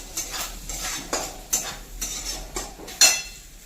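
Metal spoon scraping and clinking against a pan as green chillies and peanut powder are stirred in hot oil for sabudana khichdi, a steady rhythm of strokes over a soft sizzle, close and alone.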